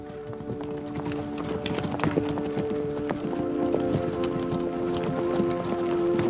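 A horse's hooves clip-clop in a steady, close rhythm on hard ground for several seconds, with no voices over them.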